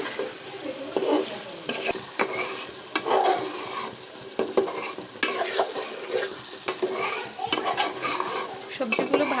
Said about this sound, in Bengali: সবজিগুলো ভালো করে কষাতে হবে